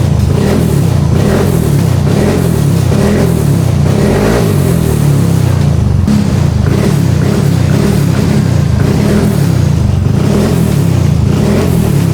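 Fuel-injected motorcycle engine after ECU remapping, revved repeatedly in loud, close blips that rise and fall over a continuous rumbling idle, with a mechanical clatter underneath.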